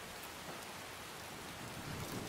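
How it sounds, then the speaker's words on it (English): Steady rain hissing down in the video game Skyrim, a dense even wash of falling drops with no voices over it. "But we gotta get out of the rain."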